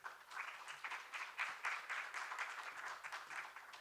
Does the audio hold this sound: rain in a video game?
no